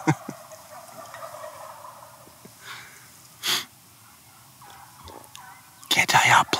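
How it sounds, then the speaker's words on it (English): Wild turkeys gobble in the woods near a bowhunting blind with decoys, short loud gobbling bursts breaking a quiet background, with a final burst of several overlapping gobbles at the end. "there is an absolute pile of turkeys in here"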